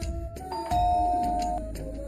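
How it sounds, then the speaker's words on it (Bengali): A two-tone electronic doorbell chimes once, clear and moderately loud, over a low background hum. "কলিং বেল বাজছে"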